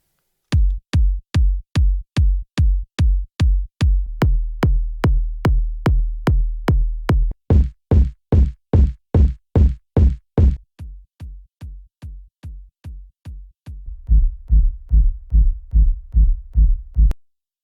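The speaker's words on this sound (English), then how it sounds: "So I will let them play now. Kick 1, 2, 3, 4, and sub" Layered kick drum samples and a sub bass played one after another in a drum mix, giving a steady run of punchy, booming thumps that change character across sections, ending with deeper, softer sub hits, close and alone.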